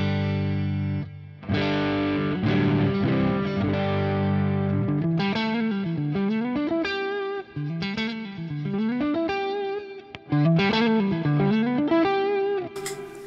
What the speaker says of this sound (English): we can probably predict what like one tube screamer might sound like